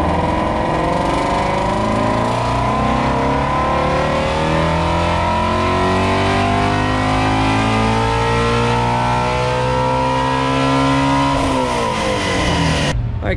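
A Ford Mustang GT350 V8 revs hard on a dyno, a loud, continuous engine roar climbing steadily in pitch through the run before easing off near the end.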